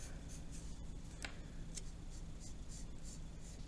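A pencil scratches steadily across paper while sketching a soda can still life, a soft continuous rubbing with faint light strokes at close range over a quiet hum.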